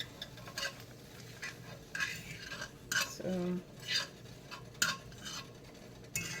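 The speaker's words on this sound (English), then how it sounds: "The sizzle kind of calming it down because of the asparagus and the bell pepper." Asparagus and bell pepper from the freezer, sizzling faintly in a pan while being stirred, with repeated clinks and scrapes of a utensil against cookware at an irregular pace; a voice briefly speaks once.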